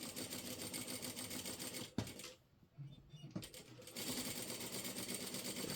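A sewing machine stitches a curved seam on a China-collar blouse body in quick rattling runs, pausing briefly in the middle before carrying on at a steady pace.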